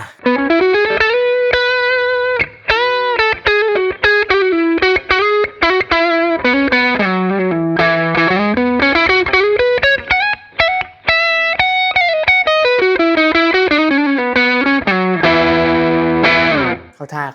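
An electric guitar plays a melodic line with a crunchy, lightly overdriven tone through a Marshall amp and Celestion speaker, loud and sustained, notes bending and sliding, with brief gaps between phrases.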